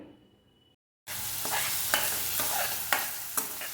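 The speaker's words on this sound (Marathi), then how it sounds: "तेलात आता आपण कांदा परतून घेऊया" Onion hits hot oil in a pan after a brief near-silent moment, then sautés with a steady loud sizzle and occasional spoon scrapes as it is stirred, close and without speech.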